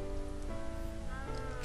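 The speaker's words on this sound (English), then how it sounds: "Oh, it's raining outside." Rain falls in the blocky survival game SurvivalCraft, a steady hiss of drops under layered game tones and sustained musical notes, with no voices.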